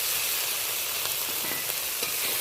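Ginger-garlic paste fries over onions and tomatoes in a pan, giving a steady close sizzle with a few soft scrapes as it is stirred.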